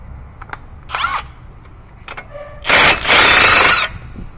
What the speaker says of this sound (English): Third, I'm gonna be taking the strut bolts out.